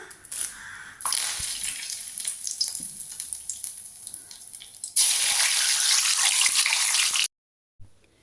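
Curry leaves and green chilies hit hot coconut oil in a pan, bursting into a loud hissing sizzle that swells sharply midway, then cuts out abruptly near the end.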